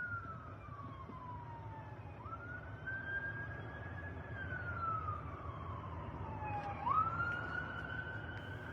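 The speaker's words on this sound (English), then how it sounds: "I guess it's just somebody filming the ambulance from the incident." An ambulance siren wails at a distance, sweeping slowly up and down in long continuous cycles over a low, steady background rumble.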